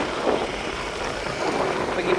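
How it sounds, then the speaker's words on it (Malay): Riding on the back of a Grab motorbike taxi in Medan, Indonesia, with steady rushing wind buffeting the microphone and a low road rumble throughout. "Okay, kita naik Grab motor."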